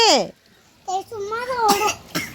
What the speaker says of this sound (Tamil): அப்பயே இருமல் வருது